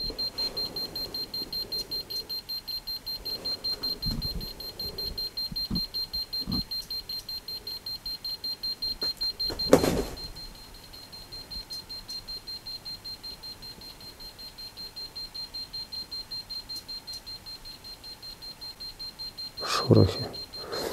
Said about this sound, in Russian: Почему электромагнитик не перестает пищать?